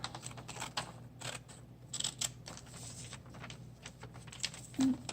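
Scissors snip out paper pieces for a glue book, making a quick run of short, crisp cuts close by, with no one talking.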